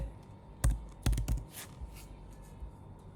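Typing on a computer keyboard at a desk, a few quick clustered keystrokes and clicks, soft and close, over a quiet room hum with no talking.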